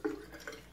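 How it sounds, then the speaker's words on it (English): Water mixed with essential oil tips out of a 300ml ultrasonic aromatherapy diffuser in two short, soft splashes and drips, quiet and close, with no voices. "I'm gonna go ahead and dump out the water and oil."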